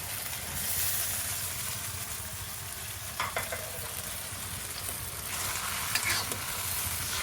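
Beef with green peas in oyster sauce sizzles steadily in a hot pan, a constant frying hiss broken by a few brief scraping clicks as it is stirred.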